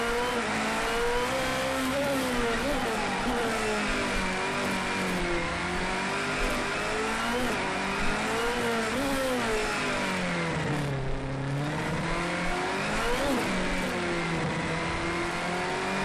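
A 1,250-horsepower Formula X race car roars around Monaco at night in Project Cars 2, its engine loud and continuous, rising and falling through gear changes and revs without pause.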